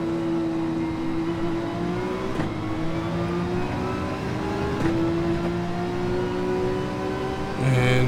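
A race car engine in Gran Turismo 7 holds a steady, droning tone at sustained speed, with slight pitch shifts and a louder swell at the end.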